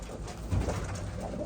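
Racing pigeons coo in a new loft, low soft throaty calls close by with a gentle swell midway, continuous and without speech.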